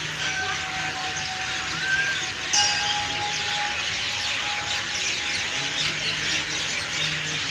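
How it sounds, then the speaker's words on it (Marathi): A dense chorus of birds calls and chirps steadily at a Shiva temple in Dhayari, Pune, with thin whistled notes over a constant hiss of outdoor noise. "इथं पक्ष्यांचा आवाज खूप येतो खूप पक्ष्यांचा आवाज खूप आहे"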